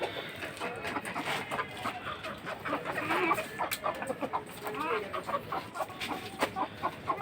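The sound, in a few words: chickens and rooster clucking on a farm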